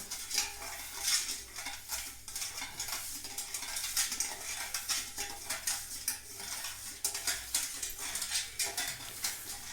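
A spoon stirs lemon sherbet in a glass or vessel, giving quick, repeated clinks and swirls in an irregular rhythm, close and fairly soft, with no voices.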